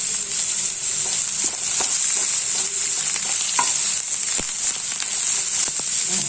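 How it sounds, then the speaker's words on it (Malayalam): Chopped onion stirred and frying in a hot pan for masala idli, a steady close sizzle with scraping stirring strokes throughout and no talk. "അതും കൂടി ഇട്ട് ചേർത്ത് നല്ലോണം ഒന്ന് ഇളക്കി കൊടുക്കാം."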